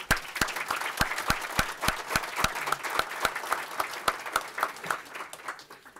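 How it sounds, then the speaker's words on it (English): An audience at a congressional breakfast gives a round of applause. The claps are sharp and distinct with a loose rhythm, fairly close, and thin out toward the end. "And I think you deserve a round of applause."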